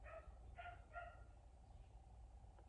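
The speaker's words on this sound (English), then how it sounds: "It's one of the neighbor's dogs. This dog barks all day long." A neighbor's dog barks three times in quick succession at a distance, faint over a steady low background hum, then falls quiet; no one speaks.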